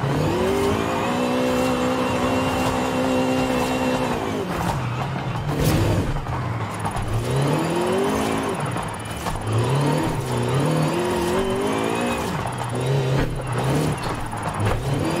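Engine revving and shifting through gears as a car drifts down a track zone in a racing video game, loud and continuous with rising and falling engine tones and occasional tire squeal.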